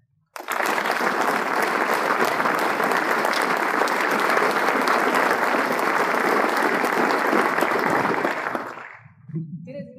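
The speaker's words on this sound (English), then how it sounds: "Please join me in another party round of applause for those individuals" Sustained applause from the audience at a Marine Corps change-of-command ceremony, loud and steady for about eight seconds before quickly fading out.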